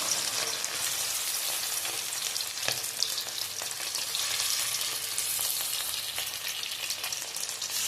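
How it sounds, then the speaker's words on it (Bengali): Chicken pieces sizzle and crackle steadily in hot oil in an iron wok, a dense, loud frying hiss with occasional light scrapes, no voices. "চিকেনগুলো একটা সে ভেজে নেবো।"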